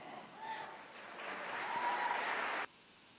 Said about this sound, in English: I don't know why people are applauding.